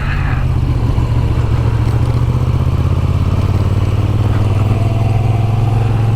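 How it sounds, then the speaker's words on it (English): A new Moto Guzzi V7 Sport motorcycle engine drones loudly and steadily at close range while riding in the Yorkshire Dales, with a low, constant hum and some rattling, no voices. "Riding a brand new fantastic motorcycle in the middle of the Yorkshire Dales"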